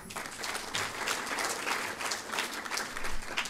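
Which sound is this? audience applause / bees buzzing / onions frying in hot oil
audience applause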